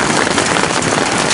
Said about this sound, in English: If the wind and the hail would stop, that would be great.